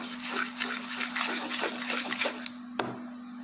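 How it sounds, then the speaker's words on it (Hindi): Water poured into thick dhokla batter in a home kitchen makes a steady, close splashing trickle that runs for about two and a half seconds, then stops with a short clink. "ये मिक्सचर हमारा गाढ़ा है, इसके लिए हम इसमें पानी ऐड करेंगे।"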